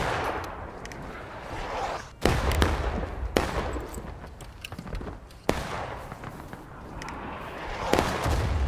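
Musket volleys in the Civil War game War of Rights, three sharp loud cracks of massed gunfire spaced a few seconds apart, each rolling into rumbling echoes over continuous distant battlefield noise.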